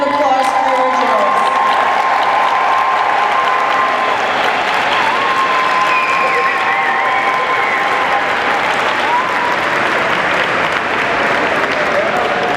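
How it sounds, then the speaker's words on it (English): A large crowd at a commemorative event applauds without pause, with thick, loud clapping and a few cheers continuing evenly throughout. "Can we give another round of applause for the originals?"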